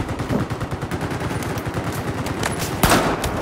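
Rapid bursts of automatic gunfire in the shooter game Battlefield 4 on PS4, a dense rattling volley with a louder single shot near the end, no voices.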